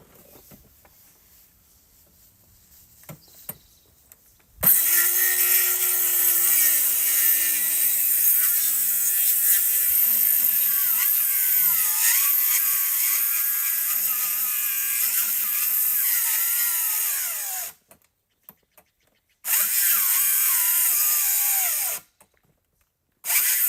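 Power sander working wooden bench parts for a community table, a loud steady whirring that starts after a quiet stretch, runs continuously, then stops and restarts in short bursts near the end.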